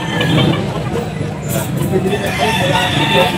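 Full stag roosters crowing among fowl at a Philippine pet market, a couple of crows mixed with clucking and busy market chatter, moderately close under people talking.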